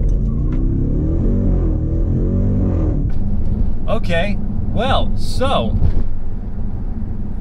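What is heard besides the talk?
2020 Jeep Grand Cherokee Trackhawk accelerating, engine revving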